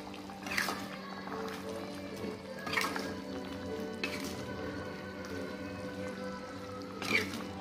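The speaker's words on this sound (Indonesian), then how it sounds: "Kita aduk." Chicken in oyster sauce sizzles in a Teflon pan while being stirred, with a steady frying hiss broken by a few sharp scraping stir strokes, close and moderately quiet.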